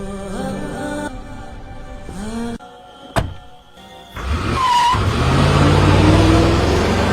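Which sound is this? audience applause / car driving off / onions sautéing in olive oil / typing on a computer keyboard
car driving off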